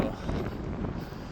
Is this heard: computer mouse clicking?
no